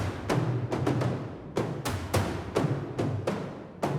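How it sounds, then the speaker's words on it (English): Rods and mallets strike low toms from a Kontakt XXL patch, giving deep, slappy thuds in an uneven pattern of about ten hits with short boomy tails, fairly quiet and alone. "I brought in the rods and mallets from the XXL patch, which sound like this."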